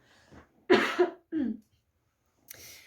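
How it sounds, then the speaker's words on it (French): Three or four quick, close coughs in a row, with a short pause before a final softer burst. "il faut que je tousse 2 secondes."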